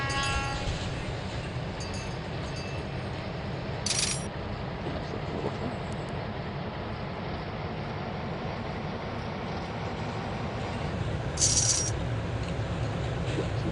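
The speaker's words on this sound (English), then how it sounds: "because we haven't watched a train in a while, we're going to watch a train" Freight train loaded with lumber rolling past in a train simulation game, a steady dense rumble with rail clatter throughout and two brief metallic clinks, no talk.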